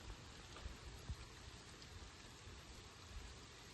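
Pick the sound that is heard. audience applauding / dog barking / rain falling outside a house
rain falling outside a house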